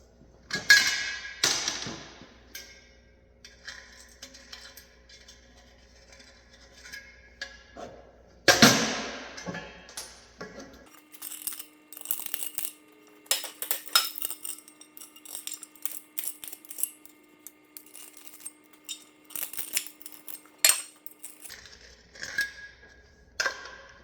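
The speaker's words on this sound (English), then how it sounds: "I'm going to go ahead and deburr the holes, wire brush, and then clean with acetone" Metal deburring and wire brushing on drilled holes in an aluminum valve cover, heard as scraping, clinking tool strikes and bursts of rasping brush strokes at close range, with quieter pauses between and no talking.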